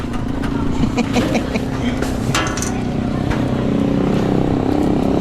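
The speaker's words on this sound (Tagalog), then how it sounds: "Nagloko pa yung motor. Tagal uminit." A Rusi motorcycle engine that is acting up and slow to warm runs at a steady, loud idle rumble with light mechanical clatter, close by throughout.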